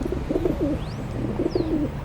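Pigeons on a balcony coo in soft, rolling bursts, two phrases close together over a dull background rumble, with a faint chirp threading through.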